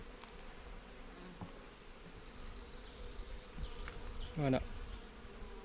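Honeybees from a swarm buzz continuously around a honey-and-water syrup, a steady close drone with some louder passes near the mic; one brief spoken word.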